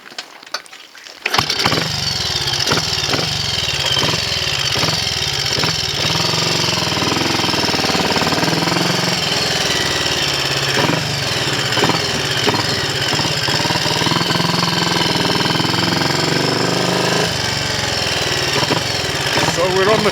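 Triumph Scrambles Cub replica motorcycle engine running on an Amal 376 Monobloc carburettor during a test ride, a loud, rough, rattling engine note that starts abruptly and continues with uneven revving throughout.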